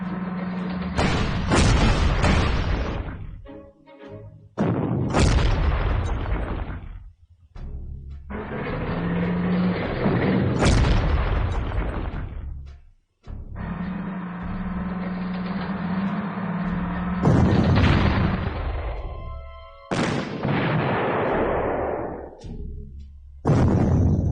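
Repeated heavy booms of artillery fire in the Panzer Corps strategy game, loud and close, arriving in bursts with short gaps, some shots followed by rumbling engine-like sustains.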